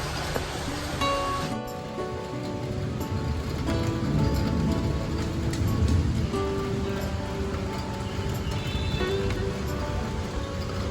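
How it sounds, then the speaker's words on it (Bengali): Light rain falls under a cloudy sky in Pune, a soft, steady hiss of drops on surfaces that continues without a break, with faint background noise and no speech. "খুব সুন্দর লাগছে না বৃষ্টিটা"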